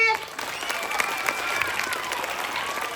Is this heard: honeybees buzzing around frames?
no